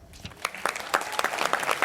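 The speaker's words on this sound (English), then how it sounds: "Shall we applaud them?" A conference gala audience gives a short burst of applause, with scattered sharp claps that quickly thicken into a fuller round.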